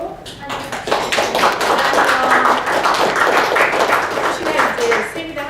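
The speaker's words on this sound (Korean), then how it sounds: "나오실 때 큰 박수로" Audience applause at a real estate expo seminar, dense clapping from a seated crowd swelling after a brief lead-in and holding steady and loud for several seconds.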